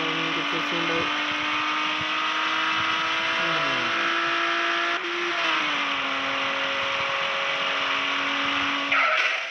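A car drifting in the video game Dream Road, its engine droning loud and steady with pitch shifts as it revs and slides, close and continuous throughout.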